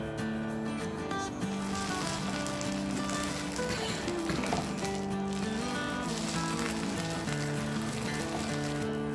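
A tomato rava oothappam, with oil poured around it, fries on a hot pan with a steady, close crackling sizzle that continues evenly with no talk, and faint tones sit in the background.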